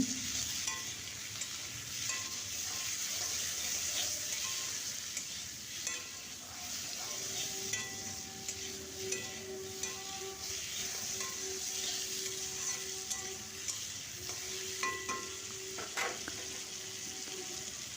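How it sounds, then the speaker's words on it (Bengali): Potatoes frying in oil with salt and turmeric in a home kitchen in rural Bankura, a steady sizzle with scraping stirs of a utensil in the pan and occasional light knocks and clinks. "নুন হলুদ দিয়ে দিলাম দিয়ে আলুগুলো প্রথমে আমি একটু ভেজে নিচ্ছি"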